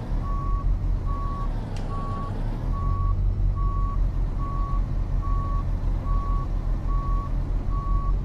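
A truck reversing a trailer in Euro Truck Simulator 2, its reversing alarm beeping steadily at an even pace over a constant low engine rumble.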